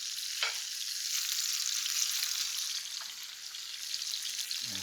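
Tomatoes sautéing in a frying pan for a ricotta frittata, giving a steady, bright sizzle that runs throughout with a few soft stirring scrapes, close and moderately loud.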